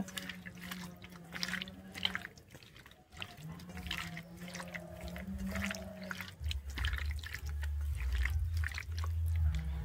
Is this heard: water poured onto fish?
yes